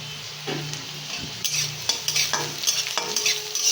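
Chopped ginger and garlic frying in a pan, a bright steady sizzle with clustered scraping stirs and light utensil clinks, close and fairly loud, with no voices.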